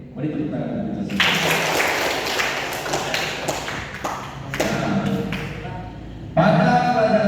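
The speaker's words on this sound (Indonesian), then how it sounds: "Mari tepuk tangan kita semua." Students in a classroom clapping hands together, rapid, sharp claps in an irregular burst that fades, then voices speaking close by at the end.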